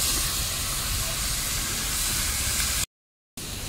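Eggplant drops into spiced masala already fried with green chilies in a pan at a home kitchen and sizzles loudly and steadily, a dense broad hiss close by that cuts out briefly near the end.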